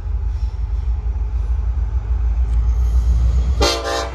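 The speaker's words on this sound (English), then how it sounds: "we got Norfolk Southern eastbound train coming down the line" An eastbound Norfolk Southern freight train passes at Depot Street in Berea, Ohio, its deep, steady rumble close by before a loud, sharp horn blast breaks in near the end.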